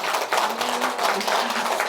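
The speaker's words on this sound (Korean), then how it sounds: "우리 박수 한번 보내드립시다." A church seminar congregation applauds together in a steady, dense clatter of many hands, continuous and fairly close throughout.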